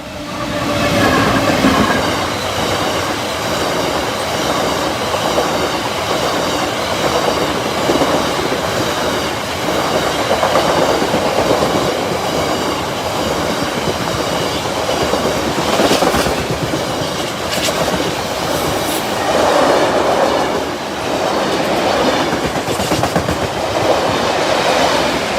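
A long freight train rolls past Oak Farm level crossing, loud and close, its wagons drumming and clattering over the rail joints in a steady clickety-clack. Faint wheel squeals rise now and then, and no one speaks.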